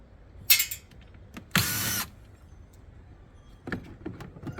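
A power tool backs screws out of a stainless steel dishwasher during teardown, giving a short zip followed by a longer steady whir, with faint clicks and handling noises between them.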